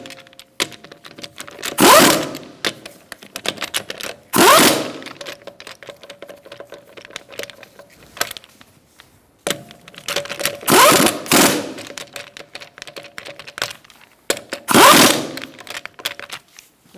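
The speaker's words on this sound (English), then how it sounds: "We're going to tighten up our lug nuts in a star-like pattern." Lug nuts on a 2012-2018 Ford Focus rear wheel being run down in a star pattern, heard as four loud bursts of rapid ratcheting rattle spaced a few seconds apart, with quieter clicks and handling noise between.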